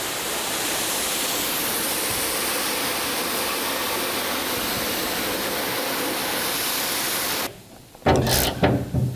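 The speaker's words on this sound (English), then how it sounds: "Let's rinse it down and see what we got." Water spraying steadily over a 1982 Jeep CJ7 hood during restoration, a dense continuous hiss that cuts off near the end, followed by a couple of short bursts of spray.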